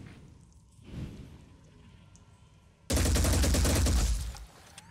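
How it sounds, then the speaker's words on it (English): Automatic gunfire from an auto gun in the tactical video game Phoenix Point, a loud sustained burst of rapid shots lasting over a second, preceded by a softer thump and quiet game ambience. "I'm going to use the auto gun."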